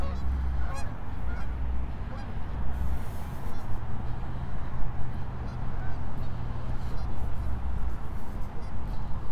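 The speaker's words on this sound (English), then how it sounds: "Lots of geese there. Here they go by." A flock of geese flies past outdoors near a garden, honking steadily for several seconds at a moderate distance over continuous low wind-like rumble, with some faint talk mixed in.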